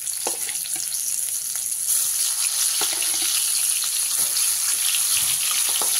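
Pieces of rohu fish frying in hot oil in a wok, a steady, close crackling sizzle with occasional louder spits and pops, no voices.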